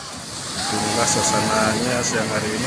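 Surf washes steadily along Selong Belanak beach in Lombok on a sunny midday, a broad continuous roar that swells slightly as someone talks over it close to the microphone.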